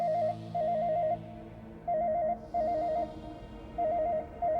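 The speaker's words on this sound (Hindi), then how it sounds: "किसका फोन आ गया अब?" A telephone rings in a repeating electronic warble, several short bursts separated by brief pauses, fairly close and clear against a quiet room with faint background noise.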